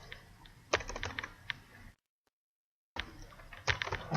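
Computer keyboard typing in a quiet room, bursts of crisp, close key clicks separated by a full second of silence before the clicking resumes.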